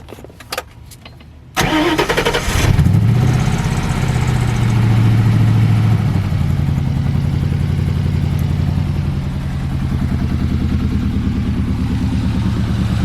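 A freshly built car engine cranks briefly, catches and settles into a steady, loud idle, running on alone without throttle changes.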